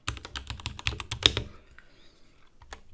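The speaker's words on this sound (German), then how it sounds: "so klingt die Tastatur." Typing on a Royal Kludge RK84 mechanical keyboard: a quick run of crisp, close key clacks eases into a few scattered, fainter presses, with a last click at the end.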